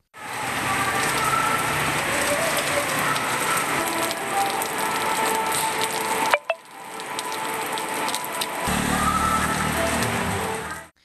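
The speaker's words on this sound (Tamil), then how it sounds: "மேகம் கருத்து சாரல் மழை பெய்தது." Light drizzling rain patters steadily under dark clouds, a soft continuous hiss that cuts out briefly partway through and then resumes, with no voices.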